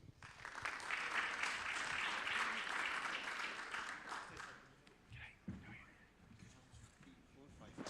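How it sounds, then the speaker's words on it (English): Audience applause welcomes panel guests at a COP28 industrial decarbonisation forum: a steady, full burst of clapping from a room that fades after about four seconds into quieter room noise and scattered sounds. "Please give him a round of applause"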